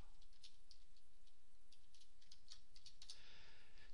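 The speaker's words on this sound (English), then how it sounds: "we can go ahead and start typing our code" Steady computer keyboard typing as code is entered, a fast run of light clicking keystrokes that quickens into a denser flurry near the end, close and fairly quiet, with no talk.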